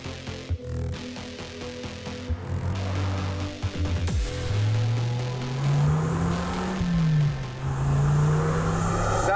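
A first-generation Dodge Viper's engine roars loudly from close by, with clicks and shifts early on, then rising and falling revs as the car accelerates hard, with wind rush behind.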